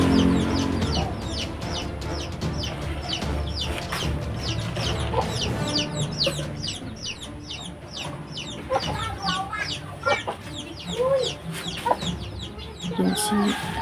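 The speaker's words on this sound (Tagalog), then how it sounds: "manok ko" Chickens and a rooster cluck busily and overlap in a loud farmyard chorus, with occasional sharper calls and scattered human voices in the background.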